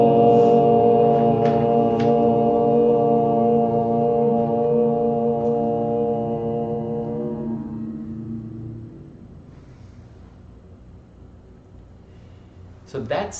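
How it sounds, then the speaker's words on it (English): Several voices chant a single long Om together in a webinar for a yoga group, a sustained humming drone that holds steady for several seconds before slowly fading to near silence. "Let's do the Om together."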